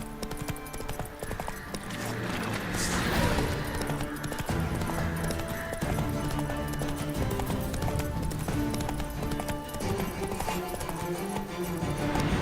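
Hooves clip-clop rhythmically as the horse Roach gallops in The Witcher 3 video game, a steady close patter under a layer of game music.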